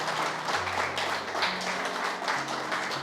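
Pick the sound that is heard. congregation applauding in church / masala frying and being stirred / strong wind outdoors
congregation applauding in church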